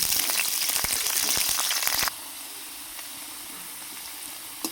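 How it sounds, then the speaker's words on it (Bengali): Cut potatoes frying in mustard oil in a kadai, a loud bright hiss with sharp crackles and pops that abruptly drops to a quieter, steady sizzle, no voices. "2টো আলু কেটে রেখেছিলাম, সেগুলো ভেজে নেব।"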